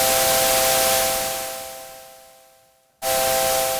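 The noise oscillator on a Deluge synthesizer plays under held chords: broad hiss with steady sustained tones that fades down to near silence, then snaps back at full level.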